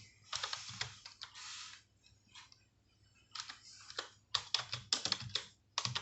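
Keys clatter on a computer keyboard as a table name is typed into MS Access, in quick bursts of close, crisp clicks separated by short pauses over a faint background hum.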